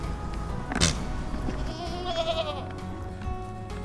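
Goats on a sustainable landscaping site in the Bay Area bleat a few times. The drawn-out, wavering calls sound fairly distant and faint over a steady outdoor background hum.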